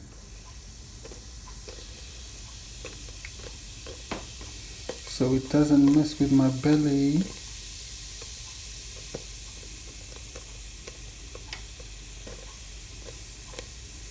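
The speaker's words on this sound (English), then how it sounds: "I'm going to let that sizzle for a minute and get cooked really well" Steady hissing sizzle of curry frying in hot oil for curry goat continues throughout, with a person briefly talking in the middle.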